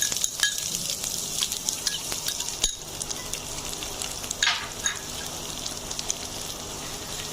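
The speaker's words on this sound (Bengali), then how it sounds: "আমি এবার রসুনগুলো দিয়ে দিচ্ছি।" Garlic sizzles steadily in hot mustard oil in a pan where dried red chillies were just fried, with a continuous close crackle, a few clinks of stirring and no talking.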